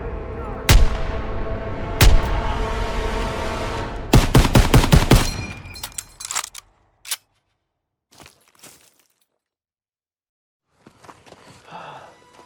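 Loud gunshots ring out in Call of Duty: WWII, first two single cracks and then a quick volley of shots. Scattered fainter reports follow before near-silence, with faint commotion at the end.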